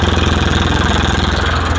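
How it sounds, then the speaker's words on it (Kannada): A used car's engine idles close by, a steady low throbbing hum with a fast regular pulse and no other sounds. "ಇಂಜಿನ್ ಸೌಂಡ್ ಕೇಳ್ತಾ ಇದ್ದೀನ."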